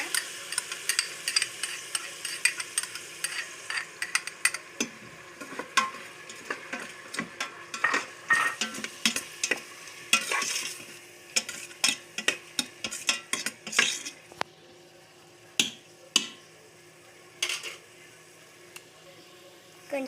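Curry being mixed in a pan after salt goes in, with repeated scraping and clinking of a utensil against metal over a faint sizzle, steady and close, without talk.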